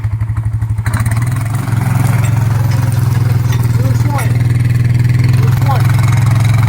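A four-wheeler engine idles and revs loud and close while hauling an all-iron log arch over a rocky, stump-strewn new trail, a steady low drone with a sharper pulsing start.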